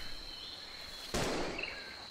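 A burst of gunfire from the Arma 2 DayZ Mod, set on the Lingor map, strikes once as a sharp broadband crack partway through and fades into a short tail, heard over a steady high electronic hum.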